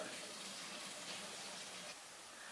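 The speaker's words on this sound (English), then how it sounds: "the cider will start to flow. And then the siphon will start." Cider running through a siphon tube into a 2-liter bottle, a steady faint hiss of flowing liquid with no break, close and quiet.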